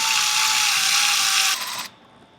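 A ratchet with an 8mm socket loosens the bolt holding the airbox to the fender on a 2025-2026 Ford Bronco 2.3L. It makes a loud, continuous, close mechanical whirr that fades and then stops abruptly after about two seconds.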